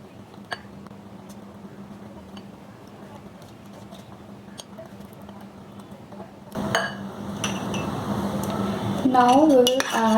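A utensil clinks and scrapes against a bowl while oil is stirred into eggless semolina cake batter, steady light tapping that grows busier and louder toward the end, with no talk.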